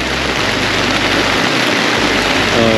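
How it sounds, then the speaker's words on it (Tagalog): Heavy rain pouring during a storm, a dense, steady roar that stays loud and unbroken throughout, heard from inside a car. "Lakas na ulan pre."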